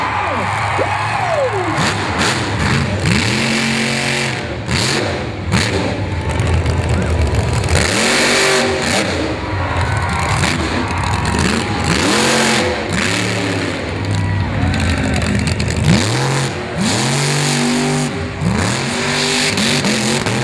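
Monster truck engines roar and rev loudly and continuously at an arena event during a wheelie and a donut, with repeated rising and falling throttle sweeps and a commentator talking over the noise.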